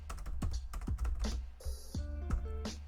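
Clicking keystrokes on a computer keyboard during Linux CentOS 8 network configuration, a quick irregular run of close, crisp taps with brief pauses between bursts.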